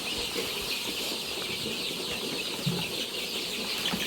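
Four-week-old layer chickens on a poultry farm in Ghana flap their wings as they jump onto a feeder. A steady flock hubbub runs throughout, broken by occasional brief flutters at close range.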